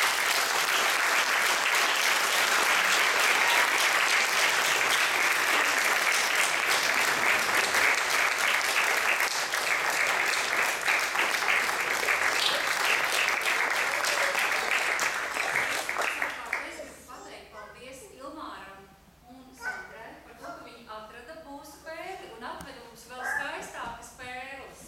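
Concert audience at a European Folklore Day folk concert applauding loudly and steadily for about sixteen seconds, then breaking off into scattered claps and murmuring voices.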